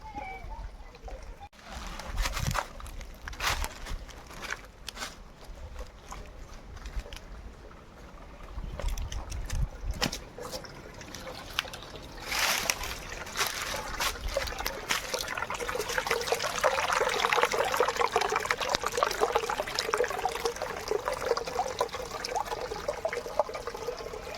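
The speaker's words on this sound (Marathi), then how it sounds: "ओढ्यामधनं पाणी झरा येतं मधोमध पाणी येतं" Spring water trickles and gurgles continuously down the middle of a stream with scattered bumps and splashes, the flow growing fuller and louder in the second half.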